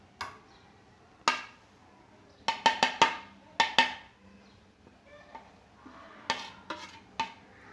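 A spoon mixes chili, coriander powder, goda masala and salt in a metal bowl for aloo paratha filling. It gives a series of sharp clinks and scrapes, bunched in quick bursts with quiet gaps between them.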